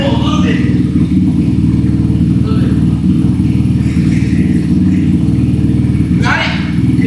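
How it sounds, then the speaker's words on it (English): A dirt bike engine runs close and loud, idling with a steady rumble and revved lightly, with brief rises in throttle while people talk nearby. "We'll rev it a little bit."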